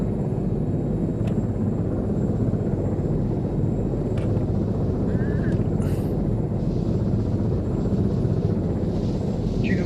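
Drone flying in the video game Arma 3, a steady loud rotor drone and rumble running continuously throughout, with faint brief game sounds on top.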